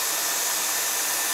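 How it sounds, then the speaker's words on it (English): Vacuum unit running while a Nissan Skyline R34 is serviced, a loud, steady, airy roar and hiss that continues unchanged throughout, with no talking. "I'm gonna leave it going to keep the vacuum all the way out."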